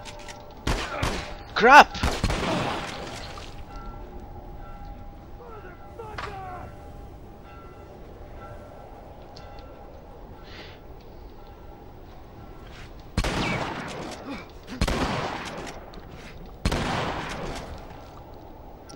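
Gunfire from a weapon in The Last of Us crackles in several loud bursts, one early and a cluster near the end, separated by quieter ambience, with a brief spoken exclamation near the start.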